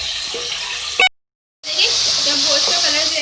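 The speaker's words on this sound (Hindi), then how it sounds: "थोड़ा फ्राई कर लें।" Beef pieces frying in a karahi give a steady, close sizzling hiss that cuts out briefly and then comes back stronger.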